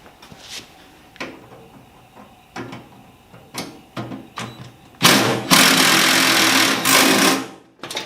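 Nuts are tightened with a nut driver on two magnetic extensions while assembling a Millermatic 255 welder. Several sharp, separate clicks and knocks come first, then a loud, sustained whirring burst, close to the microphone.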